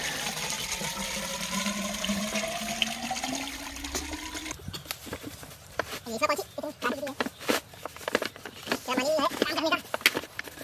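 Water gushes from a pipe onto a farm field under hot sun, a steady close rush of flow with splashing and intermittent bursts, while people talk over it.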